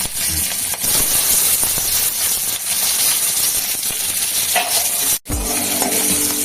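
Chopped chillies and tomatoes hit hot oil with cumin in a pan, giving a loud, steady, close sizzle and hiss that drops out briefly once before resuming.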